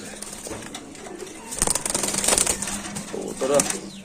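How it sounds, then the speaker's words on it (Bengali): Pigeons coo and flutter nearby amid background voices and shuffling, with a few wing flaps and soft calls rising toward the end. "দুই জোড়া রেসার কবুতর"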